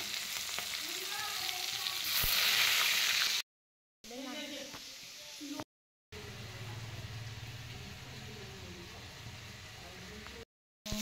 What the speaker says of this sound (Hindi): सांग मैंने माछ के तेल बाहर तो मुझे तेल में चिंगुड़ी भाजी देछि।